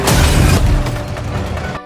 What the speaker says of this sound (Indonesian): ledakan bom yang dahsyat mengguncang tempat perjamuan